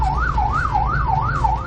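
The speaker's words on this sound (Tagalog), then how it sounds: "Isang ambulansya nga ang naipit sa traffic." Ambulance siren wailing in a steady rising-and-falling sweep, loud and close, with low road traffic rumble beneath as the ambulance sits stuck in traffic on the narrow Apalit–Kalumpit–Macabebe road.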